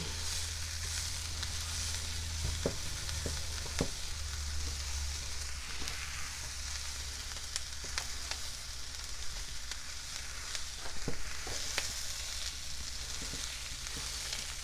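Louisiana Creole jambalaya ingredients sizzle and fry steadily in a pot over medium heat, with occasional scraping knocks from stirring heard up close above the continuous hiss and no one speaking.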